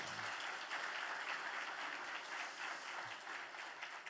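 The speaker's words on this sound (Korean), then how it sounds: "우리 온사랑교회 안수집사님들 힘내시라고 우리 격려의 박수 한번 보내주시기를 바랍니다" A church congregation gives steady, encouraging applause during a special early-morning Holy Week prayer service, a continuous but fairly quiet wash of clapping from a distance.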